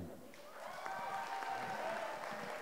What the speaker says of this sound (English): how about a round of applause for the father of the bride, Jim.